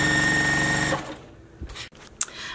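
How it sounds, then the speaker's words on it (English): A sewing machine runs steadily for about a second while sewing a leader onto a quilt top, then stops, followed by a few soft handling knocks and rustles. "I'm just going to go ahead and sew this leader completely on."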